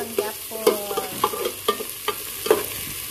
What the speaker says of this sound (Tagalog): So, i-mix na ang luya kag ang sili